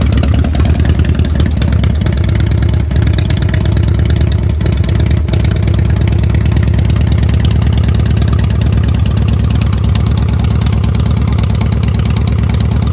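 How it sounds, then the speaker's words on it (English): A 1995 Harley-Davidson Electra Glide with an Evo engine and stock factory mufflers idles loudly up close, a steady, deep, rapid-firing thump that holds an even rhythm throughout. "what the sound is like on a 1995 Harley-Davidson Electroglide Evo engine"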